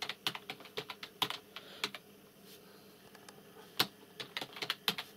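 Keys clatter on a computer keyboard as a channel name is typed into a search, bursts of sharp close clicks with short pauses between runs of strokes, no voices.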